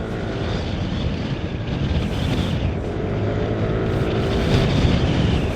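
A Yamaha Lexi 155 scooter engine revving hard on the road, a steady loud drone that swells slightly with throttle, mixed with road and wind rush throughout.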